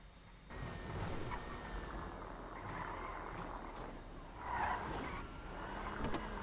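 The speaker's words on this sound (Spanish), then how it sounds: "Qué bien que anda este auto, boludo." A car in a video game drives along with a quiet, steady engine hum that swells briefly a couple of times, faint and without talk.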